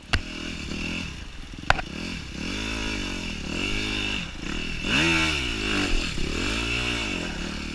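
Two dirt bikes, a KTM 150 and a YZ250F, picking over rocky slick-rock single track in Moab, Utah, the engine rising and falling in repeated revving surges close by, with a sharp knock of rock and clatter early on.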